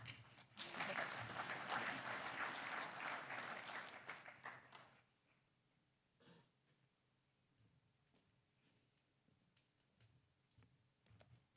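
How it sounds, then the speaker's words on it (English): Audience applause at a golf course owners' annual business meeting, a burst of clapping lasting about four seconds that fades out, leaving scattered faint taps and room noise. "You guys can clap"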